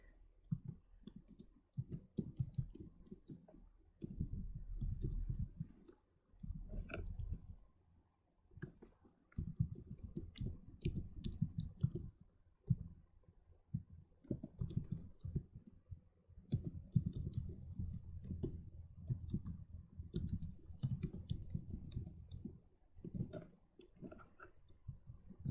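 Fingers patter on a computer keyboard while C++ code is typed, a faint, close, irregular run of soft key clicks in bursts and pauses, with a steady high electronic whine underneath.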